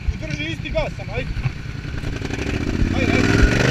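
Can-Am Renegade 800 ATV engine held at a steady throttle outdoors, a continuous motor drone that grows slightly louder toward the end, with people talking over it.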